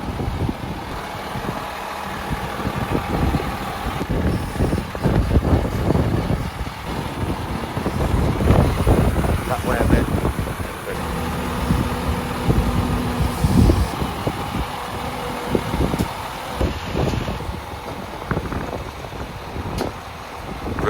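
Diesel engine of a sugar beet lorry on a farm, rumbling steadily at close range as the lorry is backed off, with low, continuous mechanical drone and clanks throughout.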